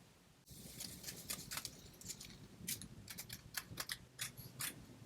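Scissors snipping paper for a Christmas card, a quick series of crisp close cuts in irregular bursts against a quiet room.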